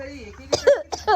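A woman coughs twice in quick, harsh bursts close to the microphone, with voiced, throaty sounds in between.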